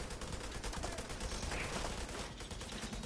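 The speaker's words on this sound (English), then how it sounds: "Hey, Kevin, you gonna shoot that?" Rapid video game gunfire crackles in dense, overlapping bursts like a machine-gun fusillade, quiet and continuous throughout with no talking.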